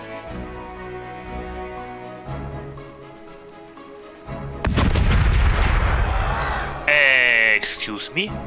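Heavy ship cannons boom in a naval video game, a loud blast rolling out midway followed by a second sharp burst, with someone speaking before the shots.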